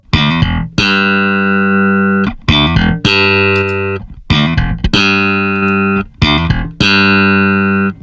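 Loud sustained bass guitar notes through an Aguilar TLC compressor pedal, each plucked and held for about a second, with short gaps between them; the tone is smooth and evenly leveled, no voices.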